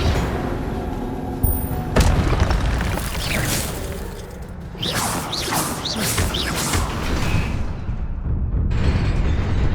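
Incendio fire spell cast in Hogwarts Legacy, a loud, continuous roaring burst of flame and crackling blasts with booming impacts that fill the whole stretch.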